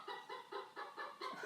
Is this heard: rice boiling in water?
no